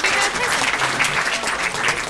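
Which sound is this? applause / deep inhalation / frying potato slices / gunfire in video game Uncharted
applause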